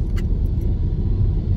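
Road traffic passing near Bitala forest park, a steady low rumble of vehicle engines and tyres close by, loud and unbroken with a couple of faint high clinks near the start.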